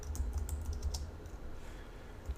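Quiet, rapid clicking of fingers typing on a computer keyboard, an uneven patter of keystrokes heard alone at low level.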